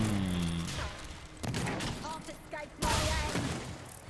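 Enemy gunfire aimed at the player in the online game DDO, with bursts of shots and heavy impacts, the loudest volley near the end, while someone talks over part of it.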